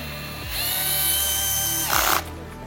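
A cordless driver drill on its lowest torque setting runs bolts into a car's oil pan, whirring steadily for about a second and a half, then rising into a brief louder burst with a ratcheting clutch slip before stopping.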